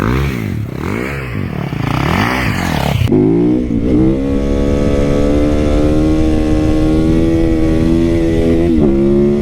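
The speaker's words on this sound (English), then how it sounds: "I'm just gonna crank the throttle" A supermoto motorcycle engine revs hard as the throttle is cranked, a loud, close, sustained roar that climbs in pitch and then holds a steady high drone.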